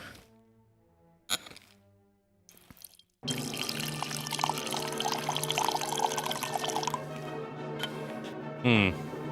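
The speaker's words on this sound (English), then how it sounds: "I grabbed back my Buddha box with the Red Volution and poured a little out" Red wine poured from a Boda box of Red Volution, a couple of faint knocks and taps, then a steady close trickle of liquid running for several seconds, ending in a brief sputter.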